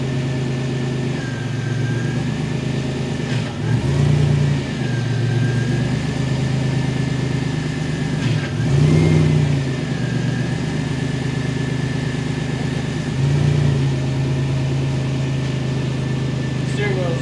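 A newly installed engine idles steadily right after its first startup, with several brief revs swelling up under it as the rear steer loads against the pump; people talk over the running engine.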